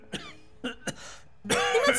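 A woman coughs in short, sharp bursts, three separate coughs followed by a longer, rougher fit, close and clear against a quiet background.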